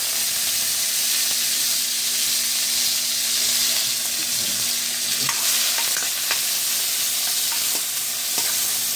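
Garlic and tomatoes stir-fry for a bitter gourd dish, a constant loud hiss of frying with scattered scrapes and taps of a utensil against the pan, with no talk.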